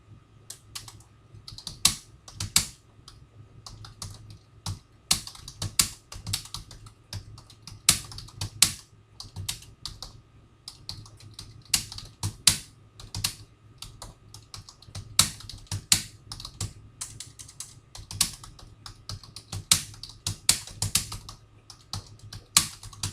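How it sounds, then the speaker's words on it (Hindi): Steady, rapid typing on a computer keyboard, close and clear, with brisk bursts of keystrokes and short pauses and no voices over it. "हम यहाँ कुछ टाइप करते हैं।"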